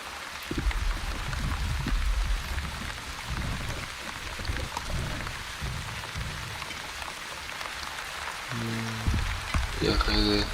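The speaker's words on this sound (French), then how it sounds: "Ok, c'est une pluie, c'est parfait." Rain falls steadily in the video game The Wandering, a soft, even hiss with a pattering of drops, and a short chime of game sounds near the end.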